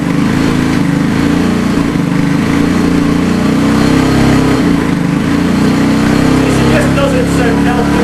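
A car engine in a workshop is held at a steady high rev, a loud, rough mechanical drone pressed up against a limit it will not exceed, with a brief dip midway before it settles back to the same pitch.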